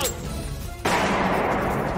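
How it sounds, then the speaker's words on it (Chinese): Gunfire in a TVB police drama scene: after a quiet moment, a sudden loud crack bursts out and is followed by a sustained, rough crackling roar. "有枪声了， 底下。"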